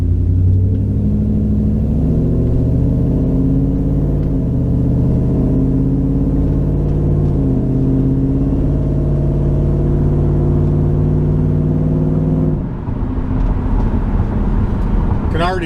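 A Ford Ranger fitted with a new intake drives along with a loud, steady engine drone and rumble that stays close and constant, then shifts briefly as the revs change near the end.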